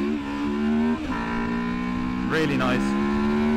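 A Honda motorcycle engine revs steadily with a clear buzzing tone. The pitch drops twice at quick gear shifts and then climbs again, and a voice speaks briefly over the engine.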